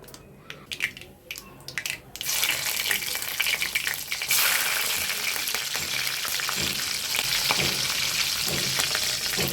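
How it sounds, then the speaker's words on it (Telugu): Mustard seeds dropped into hot oil left from frying dried prawns, quiet at first, then bursting into a dense, loud crackling splutter that continues steadily to the end. "ఇప్పుడు ఆవాలు వేస్తున్నానండి కొంచెం."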